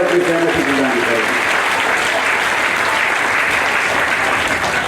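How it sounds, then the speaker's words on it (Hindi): A crowd gathered at the opening of an election office claps together in sustained applause, a dense, even roar of many hands that holds steady throughout, with a voice briefly audible at the start. "दोनों हाथ ऊपर उठाकर तालियां बजाकर अपनी सहमति प्रदान करें।"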